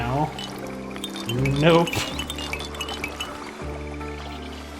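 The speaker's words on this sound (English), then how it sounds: "this water gathering needs to be updated" Water gathering in the video game Runescape: Dragonwilds, with watery pouring and glassy clinking effects, a brief bright splash near the middle, under game music, and a voice speaks briefly.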